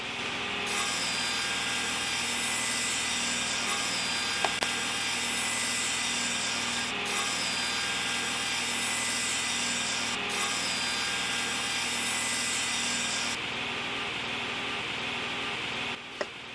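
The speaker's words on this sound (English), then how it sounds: "I'm going to rip it into 2-inch strips approximately, over and over and over" A saw rips an old spalted maple board into strips, a steady loud continuous cutting roar lasting throughout with brief pauses between passes and a short stop near the end.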